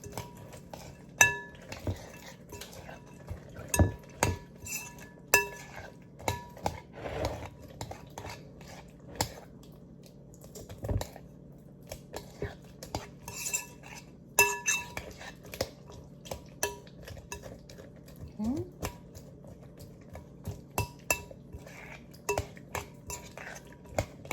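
Cracker meatloaf ingredients are stirred in a bowl with crushed crackers and a can of liquid. A utensil scrapes and clinks steadily against the bowl, close and busy, with no voices.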